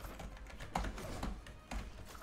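Computer keyboard typing, a few scattered keystroke taps, faint and close, over a quiet background during a gaming session.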